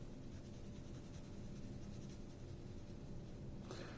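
An ebony pencil shades across paper in a continuous close scratching rasp, steady and soft throughout, with a slight change in stroke at the very end.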